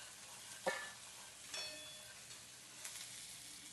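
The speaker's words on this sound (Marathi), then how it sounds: "कांद्याला परतून घेते तेलात." Chopped onion sautéing in oil on a flat tawa, a quiet steady sizzle with a few soft clicks and pops from the pan; no one speaks.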